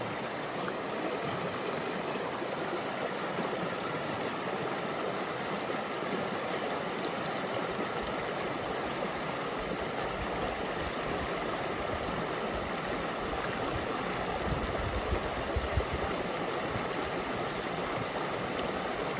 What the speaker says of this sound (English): This has been the deepest water crossing we've gone through on the entire Pinhoti.